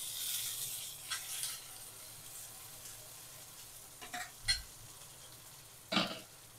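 Cleaned crabs being stirred in a pan with tomatoes for crab masala give a soft, low sizzle, broken by a few sharp scrapes and clatters of the spoon near the middle and end. No one speaks.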